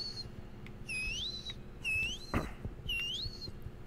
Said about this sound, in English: That was Zistriel whistling